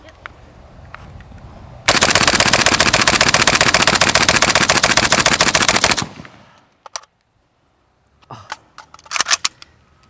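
Loud, continuous burst of automatic fire from an AK rifle fitted with a prototype 24mm UNRIV muzzle brake, a rapid mag dump lasting about four seconds, followed by quiet handling clicks and a few brief knocks.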